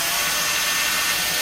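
A small 7.2-volt cordless NiCad drill runs steadily at moderate speed, giving a continuous, even, high-pitched motor whine with no pauses, close to the listener.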